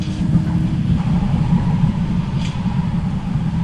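A car engine fitted with a popcorn exhaust in the Car Parking video game, rumbling low and steady at close range with no distinct pops standing out.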